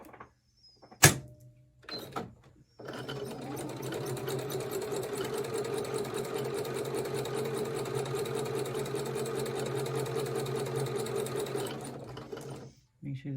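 A sewing machine stitches a Snail Trail sampler quilt block, starting with a sharp click and short handling noises before a long, steady, close mechanical whir runs for about ten seconds, then stops.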